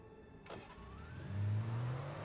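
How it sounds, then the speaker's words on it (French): Car engine in the video game Alan Wake, starting up and rising into a steady mid-pitched drone that swells louder after a brief whoosh, with no talk over it. "On va conduire la voiture."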